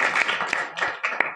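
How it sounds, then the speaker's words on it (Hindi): Schoolchildren at a primary school clap together in a brief, dense burst of applause, the claps uneven and close, with no talk over them. "बच्चों जोरदार ताली बजा दो।"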